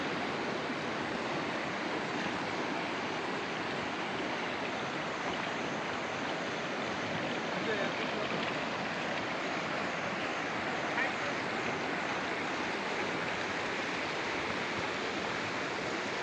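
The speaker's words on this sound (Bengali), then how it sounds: "এবং জলের আওয়াজও শুনতে পারছেন তাই না" Steady broadband rush of the Torsa river's flowing water fills the whole stretch, constant and unbroken with no voices.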